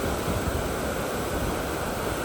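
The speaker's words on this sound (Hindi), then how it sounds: "देखो कितना ही फोर्स से पानी जा रहा है. तो इतनी स्पीड चल रही है हमारी क्रूज़" Water churning and rushing in the wake behind a cruise ship at night, a steady, dense broadband roar like heavy surf, continuous and loud with no voices.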